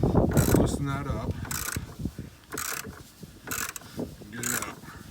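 A ratchet wrench loosens the battery terminal bolt on a 2001 Ford F-150, producing four close bursts of rapid clicking separated by short pauses.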